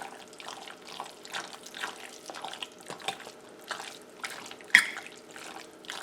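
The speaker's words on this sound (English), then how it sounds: "So you should have this kind of sloshy, wet sound to it." Marinade being folded into moose meat in a bowl, a close, soft, continuous wet squelching and sloshing with small drips and one sharper splat near the end, no talking.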